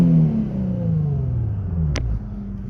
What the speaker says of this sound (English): The engine is warm, so I am going to give it a very quick rev